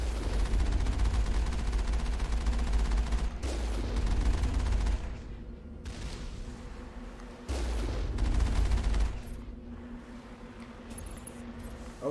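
Enemy rockets fire and boom at long range in the Mass Effect video game, a dense roar of blasts and gunfire in two loud bursts, with quieter rumbling between them.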